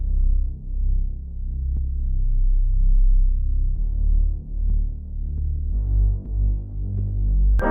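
A deep, smooth bass one-shot sample from an R&B beat in FL Studio plays alone, a sustained throbbing low tone that shifts between several pitches with soft attacks.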